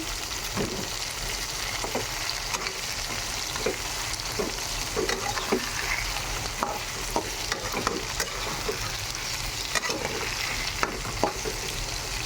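Tomatoes stirred into fried onions in a hot pan, a steady loud sizzle with repeated scraping stir strokes throughout, no voices.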